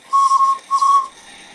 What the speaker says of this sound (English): There goes the steam whistle.